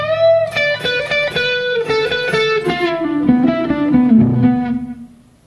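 Slow electric guitar rendition of the intro lick as played at Woodstock, sustained bluesy notes with bends and slides stepping down in pitch, ringing clearly alone before fading out at the end.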